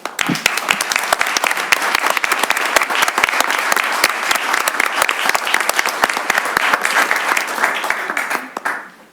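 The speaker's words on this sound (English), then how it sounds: "I welcome you to applaud your Saginaw City Council." Loud, sustained applause from an audience at a Saginaw, Michigan city council meeting, dense clapping that continues evenly before tapering off at the end.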